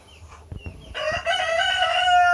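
Free-range chickens cluck in a few short bursts near the microphone, then a rooster lets out a long, loud crow that fills the rest of the moment.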